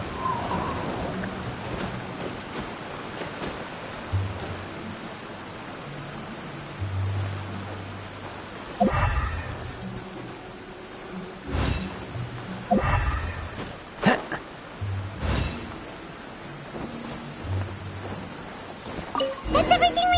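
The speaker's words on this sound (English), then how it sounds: "Taking a stroll in the middle of a downpour certainly rouses the spirit." Heavy rain downpour in the video game Genshin Impact, a dense steady wash of rainfall with scattered sharper splashes and bursts of ambient game effects, continuous throughout without speech.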